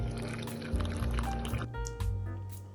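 Afternoon tea poured into a cup, a short close liquid trickle and splash over about three seconds with faint background tones, no talking.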